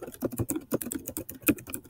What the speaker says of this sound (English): So I'll open up this text box and type notes to help me remember